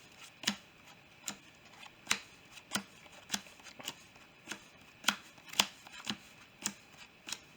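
A Mayakashi trading card deck is shuffled in quick crisp riffles, about a dozen sharp bursts in a steady rhythm, close and alone.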